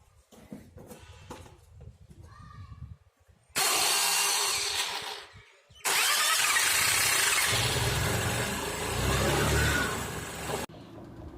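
A 2005 Honda Activa scooter engine starts with a loud whine after CVT maintenance and revs unevenly, cutting out briefly before roaring again, with clattery mechanical noise close by.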